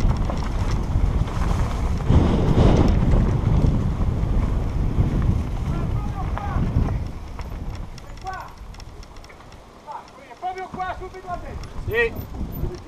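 Boat motors running on open water, a steady engine rumble under wind buffeting on the microphone, with people talking nearby throughout.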